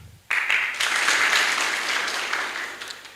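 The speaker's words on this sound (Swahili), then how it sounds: "Makofi tena." Applause breaks out abruptly at a Kapropita ward MCA candidates' debate in Kenya, a crowd clapping loudly and continuously for about three seconds before slowly thinning.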